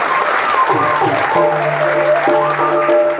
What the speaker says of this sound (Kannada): ನೀವೆಲ್ಲರೂ ಅವರನ್ನು ಚಪ್ಪಾಳೆ ಮೂಲಕ ಗೌರವಿಸಿ.